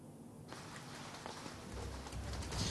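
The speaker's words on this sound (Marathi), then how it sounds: "अजूनही छत्रपती संभाजीनगर शहरात मुसळधार पाऊस सुरू आहे" Heavy rain falls across the city of Chhatrapati Sambhajinagar as a dense, steady hiss that swells slightly louder toward the end, with no voices.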